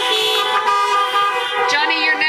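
Several car horns honk together outside a wedding reception, loud, overlapping and sustained, with a few swells and fresh blasts over the steady chorus.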